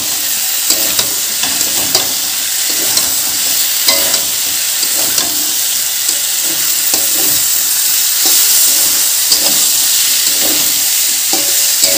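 River fish frying with spices in a pan while being stirred, a steady loud sizzle and hiss with scraping stir strokes throughout, no talk.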